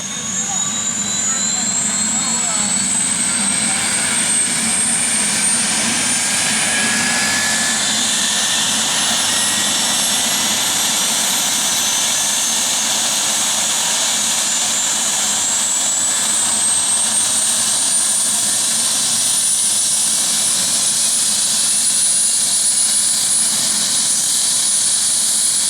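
A loud aircraft engine runs steadily with a high whining tone that shifts in pitch, while voices talk over the roar at a Georgia bicycle-ride stop.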